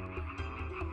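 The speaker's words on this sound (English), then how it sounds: "The River Nile swarmed with frogs that invaded everywhere and jumped everywhere." A dense swarm of frogs along the River Nile croaks continuously, a loud, overlapping chorus of low, throaty calls that fills the whole moment without any voices.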